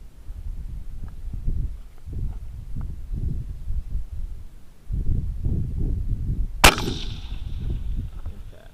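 A 22 DPC wildcat AR15 with an 18-inch barrel, firing 85.5-grain Berger Hybrid bullets, lets off one sharp, loud outdoor shot with a ringing tail, heard over gusting wind rumble.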